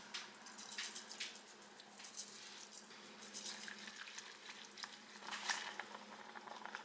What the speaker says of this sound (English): I'm going to start adding my grits in.